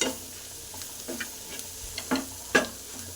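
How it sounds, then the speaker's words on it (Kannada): Green chillies fry in a pan, a quiet sizzle with occasional soft clicks and taps of stirring scattered through, faint and close, with no talking. "ಹಸಿಮೆಣ್ಸಿಕಾಯಿ ಹಾಕಿ ಹಂಗೆ ಫ್ರೈನ ಮಾಡ್ಕೊತಾ ಇರ್ತೀನಿ ಫ್ರೆಂಡ್ಸ್"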